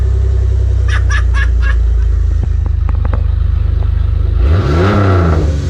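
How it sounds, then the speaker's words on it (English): A 2001 Jeep Grand Cherokee 4-liter engine with a muffler delete idles with a loud, throbbing exhaust. A few short squawks and clicks sound over it, then the engine revs hard near the end, harsh and close. "Jeep Grand Cherokee 4-liter muffler delete startup"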